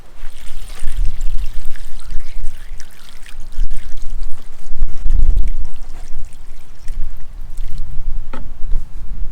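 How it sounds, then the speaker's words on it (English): Water pours and trickles steadily onto a tomato plant in a grow bag filled with rabbit manure outdoors, close and fairly loud, with brief louder splashes. "We're going to just water it real quick."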